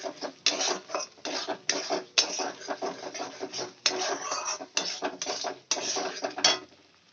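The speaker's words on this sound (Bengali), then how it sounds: "দিয়ে আমি মশলাগুলো ভালো করে মিক্স করে নেব।" Spices being stirred in a cooking pot for a potol bora curry, a series of close scraping, clattering strokes in an uneven rhythm, with no voice.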